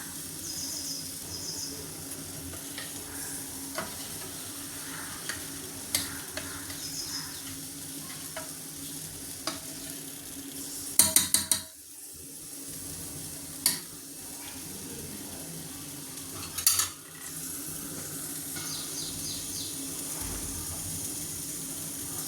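Soft, steady scraping of a spoon stirring custard apple rabdi mixture in a pan, with a few brief louder clinks against the pan partway through and no talking.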